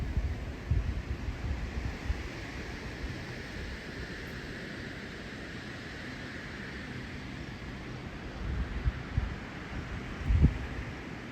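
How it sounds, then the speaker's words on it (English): Wind buffets a microphone on a rural property porch in Paonia, Colorado, in a continuous low rumble with rushing noise, gusting stronger near the start and again toward the end. "It's very windy today."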